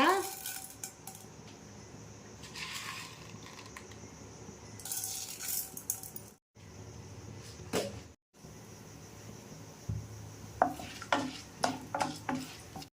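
Urad dal dropped into hot oil in a pan for kara chutney, giving soft sizzling that surges in bursts, with spoon and pan clatter, brief pauses, and sharper scraping clinks toward the end.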